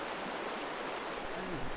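River water in the Smokies, after Hurricane Helene, rushes in a steady, broad hiss and churn, fairly close and constant throughout, with no voices over it.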